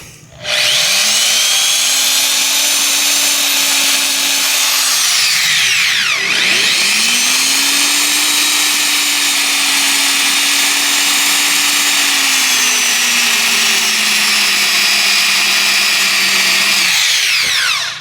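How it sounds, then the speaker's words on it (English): A 3/8-inch quarter right-angle electric drill runs loud and close, spinning up and boring into material in two long steady bursts with a brief dip between them as the motor slows and picks up again. "let's try to drill a little bit into this"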